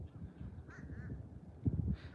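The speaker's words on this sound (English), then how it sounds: "There's a lot of birds out." Birds out at a beach during migration give a few short, faint calls, quacking and cawing intermittently over soft background noise.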